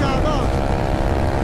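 A Today motorcycle engine roars steadily at about 200 km/h, buffeted by heavy wind noise throughout.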